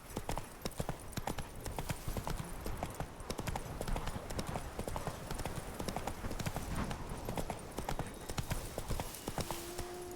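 Hooves drum in a fast, continuous gallop as a horse in The Witcher 3: Blood and Wine races along, the close clip-clop rhythm unbroken over a busy background of in-game ambience.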